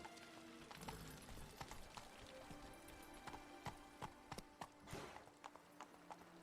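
Horse hooves clip-clop at a gallop in The Witcher 3 game, sharp repeated thuds in an uneven rhythm, close and moderately loud over a soft ambient game backdrop.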